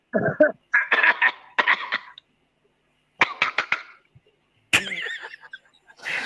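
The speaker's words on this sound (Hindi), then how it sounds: "मेरे को तो खांसी आ रही" Several harsh coughing bursts in a ragged sequence, close to the listener, with short pauses between them.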